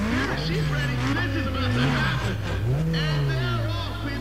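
In the racing video game Need for Speed ProStreet, a car does a burnout, its engine revving and wavering in pitch over a continuous tire roar, loud and close, with someone talking over it.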